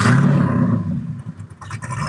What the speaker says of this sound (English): Good sounding car.